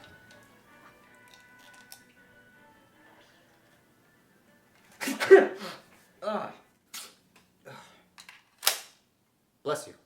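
A person sneezes repeatedly after a quiet stretch: about six sharp, loud bursts in quick succession, each roughly a second or two apart and close by.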